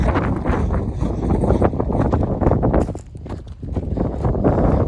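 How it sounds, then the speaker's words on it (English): Strong wind buffets the microphone on a high mountain ridge during a day hike on Trinchera Peak in Colorado's Sangre de Cristo Mountains, a loud, steady roar with thumping gusts and a brief lull midway. "I think once I get lower, the wind will die off."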